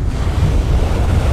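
Rough sea waves surge at a beach on Bantayan Island, a loud, steady low rush of surf mixed with buffeting wind noise on the microphone.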